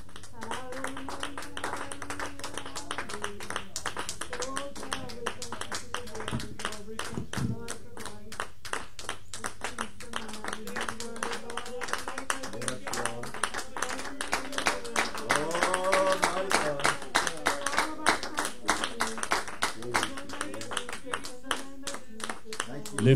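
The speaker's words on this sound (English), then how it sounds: "Could we clap our hands unto the Lord?" A church congregation clapping hands in a steady, rapid rhythm for over twenty seconds, loud and close, with voices singing or calling out over the beat.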